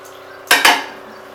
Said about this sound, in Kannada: ಈಗ ಹಸಿಟ್ಟನ್ನು ಮಿಕ್ಸ್ ಮಾಡಿ